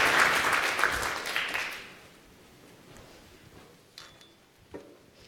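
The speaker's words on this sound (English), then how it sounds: "A round of applause." A round of applause for panelists at a conference session is loud at first, then fades out within about two seconds, leaving quiet room tone with a couple of small taps and clicks.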